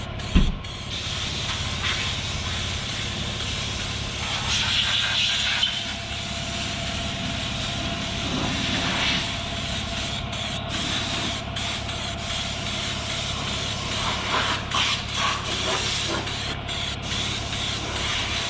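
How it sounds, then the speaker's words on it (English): Slick paint coating sprayed onto worn hay baler runners that had gone back to bare red, a steady continuous hiss running throughout at close range, with brief breaks and no talking. "it's a paint that you spray on, and it makes something just as slick as it can be"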